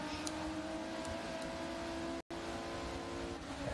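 Race car engine in a sim racing game at Sebring, a steady droning hum with sustained tonal whine, held at even loudness and briefly cut out by a short dropout midway.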